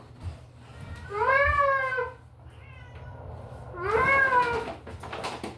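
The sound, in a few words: cat meowing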